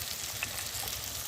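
Spice masala for egg kofta curry sizzling and frying steadily in a pan, a close continuous hiss with a faint clink of utensils, no voices.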